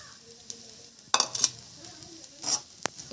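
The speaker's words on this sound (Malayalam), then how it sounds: "നല്ലോണം ഒന്ന് മിക്സ് ചെയ്യാം" Semiya upma, roasted vermicelli cooked dry with grated coconut, stirred in a pan with a spoon, making a few brief scraping and clinking strokes over a faint, low sizzle.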